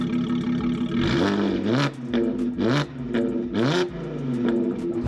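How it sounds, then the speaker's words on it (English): A supercharged Audi RS7 engine runs and revs, rising and falling in several repeated throttle blips over a steady loud idle, close to the car with no talking. "I want to start this car. Listen to how it sounds."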